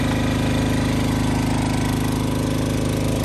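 Elemax 1000DX portable 1000 W generator engine running steadily nearby, a smooth, even low hum with a rapid regular firing pulse throughout, no voices.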